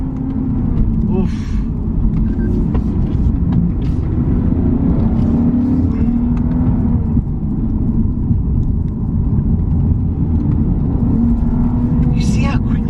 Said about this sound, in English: You see how quickly it changes gears? This is not a dual clutch transmission. This is the standard 8-speed gearbox.